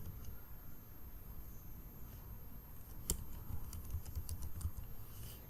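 Quiet, steady typing on a computer keyboard while writing MERN stack web code, with soft, irregular keystrokes close by and a few sharper clicks, alone without talk.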